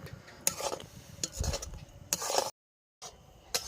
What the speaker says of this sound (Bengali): আর এটা আমি সারাক্ষণ নাড়তে থাকবো।